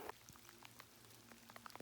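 Rain falls on a mountain hiking trail on Green Mountain in the Rockies, faint scattered drops pattering irregularly on nearby surfaces with no voices.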